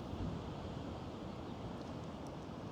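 Strong wind buffets on a Cornish beach near Padstow, a dense low rumble with surf-like roar running steadily and loud the whole time, no voices.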